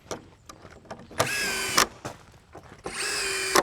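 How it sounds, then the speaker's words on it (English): A power drill drives screws to tie a girt to a new window in an old building, giving two sustained whirring bursts separated by short clicks and knocks, close and loud with no talk. "set 2 screws kind of on the back side, tying this girt to this window"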